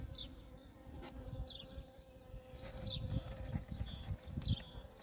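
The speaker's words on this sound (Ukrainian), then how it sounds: "І ось така кількість бджіл на заставній." A dense swarm of honeybees on a heavy hive frame buzzes continuously up close, with individual bees whining past now and then over the low droning hum.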